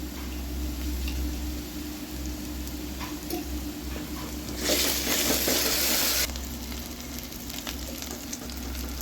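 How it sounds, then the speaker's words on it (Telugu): Onions fry in a pan with curry leaves and green chillies for a Telugu fish curry, giving a steady low sizzle with a brief louder burst of crackling midway, close and without talk. "ఆనియన్స్ కొంచెం ఫ్రై అయిన తర్వాత కరివేపాకు, ఇంకా పచ్చిమిర్చి వేసుకోండి"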